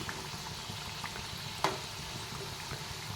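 Masala vada batter frying in hot oil on a medium flame, a soft steady sizzle and bubbling heard close but faint, with one brief clink partway through and no talk.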